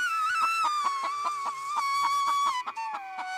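A cartoon hen clucks in a quick run of evenly spaced, bright, close calls that slow slightly toward the end, sounding clean and alone.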